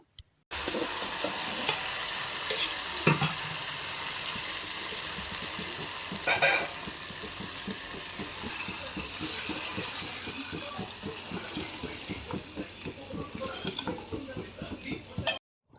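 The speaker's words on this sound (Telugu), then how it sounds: "ఇప్పుడు ఇందులోకి మనం ఆల్రెడీ గ్రైండ్ చేసి పెట్టుకున్న టొమాటోని వేసుకుందాము" Ground tomato frying in a tempering for tomato pickle, a steady sizzle running under a spoon stirring in a repeated rhythm, with a few sharper scrapes against the pan, close and fairly quiet.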